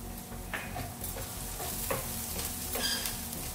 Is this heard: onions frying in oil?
yes